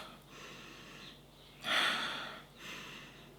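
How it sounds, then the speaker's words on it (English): Someone takes a sniff of a perfume with vanilla, sugared amber, toasted coconut and white moss notes: one sharp breathy inhale up close, between quieter breaths, with no talking. "Let me just take a sniff."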